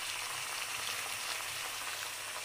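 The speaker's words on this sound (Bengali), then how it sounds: "6টা লঙ্কা আর 8-9 কোয়া রসুন সব একসাথে দিয়ে একটু ভাজা ভাজা করতে হবে।" Chilies, garlic cloves and coriander leaves frying in oil, giving a soft, steady sizzle heard faintly and alone throughout.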